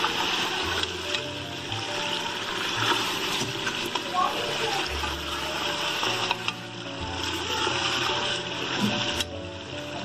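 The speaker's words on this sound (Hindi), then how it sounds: "मैं इसमें पानी डाल दूंगी," Water poured into mutton gravy frying in ghee sets off a steady, close sizzle and bubbling with light splashing and stirring throughout, and a faint voice can be heard underneath.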